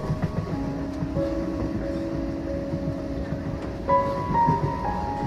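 A crowded passenger train runs on a morning journey south from Kolkata, a continuous rumbling roll with steady tonal hums and rattling wagons, heard close from inside near an open door, swelling slightly toward the end.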